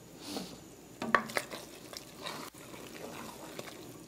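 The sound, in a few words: stirring a cooking pot of meat and rice, adding water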